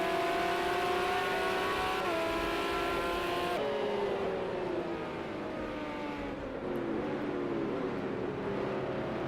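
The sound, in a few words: race car engines in Project Cars 2 video game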